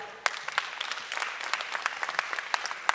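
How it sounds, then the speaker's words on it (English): Audience applause at the Oklahoma FFA Auctioneering CDE Finals, a dense patter of many hands clapping steadily at moderate volume, with a few sharper claps standing out. "I want to give him a big, big round of applause today as well."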